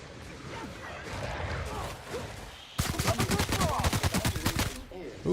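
A weapon in The Outer Worlds fires at creatures in a rapid burst of evenly spaced loud shots lasting about two seconds, following a stretch of rustling game ambience with a few faint scattered cracks.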